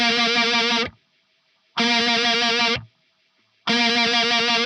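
Electric guitar fretted at the third fret of the G string through a fast MXR Phase 90 phaser, three loud sustained bursts with quick swirling sweeps separated by silent gaps, in the style of Incubus's live version of Nebula.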